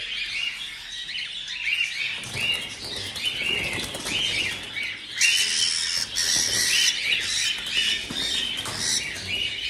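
Pigeons flap their wings in a loft at harvest time, a busy flutter of wingbeats rising and falling over several seconds, with faint chirps and squawks mixed in and no voices.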